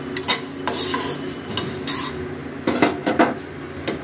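Whole garam masala spices being dry-roasted in a pan over low heat, with steady scraping and metallic stirring against the pan, rising in bursts of clatter, close and moderately loud, with no talk.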